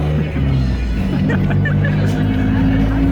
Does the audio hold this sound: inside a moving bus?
yes